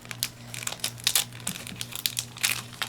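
A Yu-Gi-Oh card pack being opened, with close, bursty crinkles and crackles of the foil wrapper coming in quick irregular bunches over a low steady hum.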